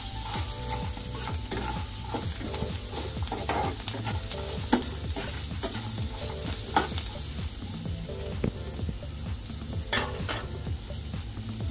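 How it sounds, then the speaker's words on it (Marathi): Chili thecha mixture with fresh coriander being stirred in a hot pan, a steady scraping and sizzling with irregular clicks of the spoon against metal, close and continuous, no voices. "आणि थोडीशी कोथिंबीर, आणि हे सर्व छानपैकी मिक्स करून घ्यायचं।"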